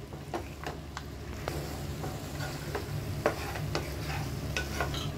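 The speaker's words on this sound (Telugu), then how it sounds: "ఈ మసాలా అంతా మటన్కి పట్టేలాగా బాగా మిక్స్ చేసుకుందామండి" Mutton pieces are stirred into fried masala in a pan for an Andhra-style mutton curry, giving repeated spoon scrapes and clacks over a soft sizzle, close and fairly quiet.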